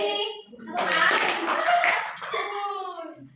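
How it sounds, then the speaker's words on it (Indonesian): A small group of schoolchildren claps briefly for a classmate who answered a teacher's question in class, a short burst of light claps between spoken voices before and after. "Tepuk tangan buat Mbak Mei"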